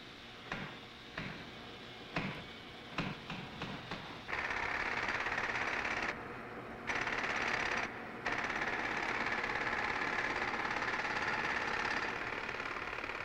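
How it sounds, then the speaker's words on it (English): A power tool carving marble grinds continuously after several short bursts of rapid chattering, loud and close, with brief pauses in between. "The modern craftsman in marble handles power tools with that master's touch"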